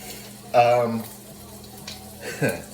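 A ribeye steak fries in a pan with a steady, close sizzle that continues underneath a person talking.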